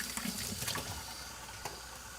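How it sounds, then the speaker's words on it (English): Tap water runs and splashes as cabbage, leeks and zucchini are rinsed under the faucet, a close hiss with a few irregular splashes and knocks. "So I'm gonna have to rinse this stuff off real quick."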